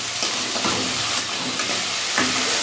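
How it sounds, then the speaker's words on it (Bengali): Potatoes fry in a pan at home, giving a steady close hiss and sizzle with small crackles throughout and no voices. "আর এদিকে দেখো তোমার হচ্ছে এই যে আলু ভাজা চাপিয়ে দিলাম"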